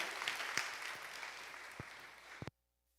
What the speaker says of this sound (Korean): 할렐루야로 환영하시면서 박수하시겠습니다